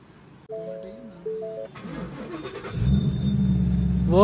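A Ford Mustang GT cranks and fires up, its engine catching after a brief starter whir and settling into a loud, rumbling idle that swells up close, with a faint voice early on.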